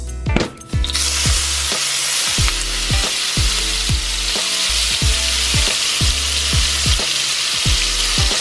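Oil sizzles loudly and steadily in a pot while a fish stew sauce is started in a Congolese kitchen, with a regular series of stirring or scraping knocks running through the frying.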